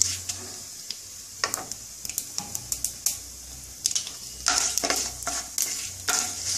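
Cumin seeds sizzle in hot oil for a tempering, with a soft steady crackle under sharp, irregular clicks and scrapes of stirring, close and moderately loud.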